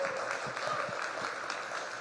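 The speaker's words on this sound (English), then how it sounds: "Quick round of applause for our panel." Quiet applause from an audience after a panel discussion at a startup week event, soft scattered clapping heard from a distance and fairly faint throughout.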